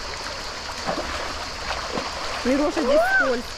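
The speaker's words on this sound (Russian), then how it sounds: "Классно! Душ! Природный душ!" Water streams and splashes steadily from a natural shower at a campsite in Georgia near Kutaisi. The continuous rushing sits under nearby voices of adults and children speaking.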